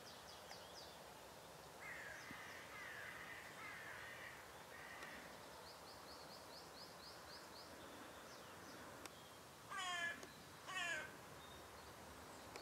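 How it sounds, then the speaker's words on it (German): Crows call in a quiet outdoor setting in spring, with a few faint caws early on and two louder harsh caws near the end over soft background rustle. "Die Krähen haben oftmals überhaupt keine Scheu vor dem Fuchs und vertreiben ihn eher"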